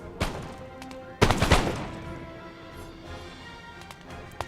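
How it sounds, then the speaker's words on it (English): Fusiliers firing muskets in Napoleon Total War: a sharp lone shot, then a louder ragged volley of overlapping cracks, trailing off into scattered distant pops. "So the Fusiliers will be able to fire on them once again without taking any casualties in return."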